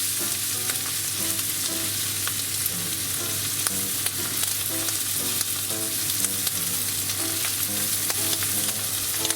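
Chikuwa fish cakes frying in a pan over medium heat, a steady dense sizzle with faint scraping and stirring clicks throughout, close and continuous with no talking.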